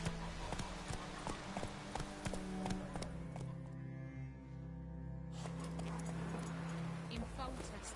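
Horse galloping in The Witcher 3, a steady clip-clop of hooves running close under game music and ambience, with voices talking over parts of it.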